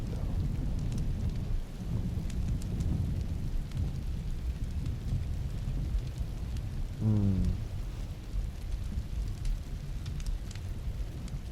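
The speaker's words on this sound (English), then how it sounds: "Rain. I get it." Steady rain pours throughout, and a low rumble of thunder rolls in partway through, with no voices.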